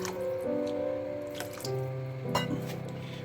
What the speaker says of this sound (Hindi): अभी इसमें मैं पानी ऐड करूँगा, तकरीबन जो है वो 1/2 कप इसमें ऐड करूँगा।